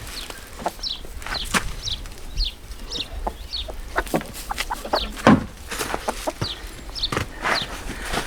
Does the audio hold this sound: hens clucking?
yes